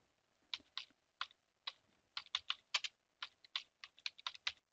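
A terminal command typed on a computer keyboard on Ubuntu 16.04, crisp individual keystrokes in quick irregular clusters, close and clear against near silence.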